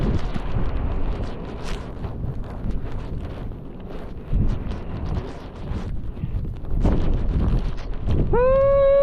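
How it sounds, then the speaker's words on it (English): Strong gusts roar against the microphone during a winter storm bringing heavy snow and ice, a loud broadband rumble that swells and eases in waves, ending as a voice briefly rises at the close. "Here's some good wind"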